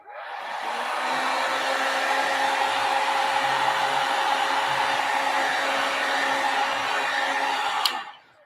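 A heat tool blows a steady, loud whooshing stream of hot air for about eight seconds, used to heat-set distress inks on a vintage photo craft project, ending with a click as it shuts off.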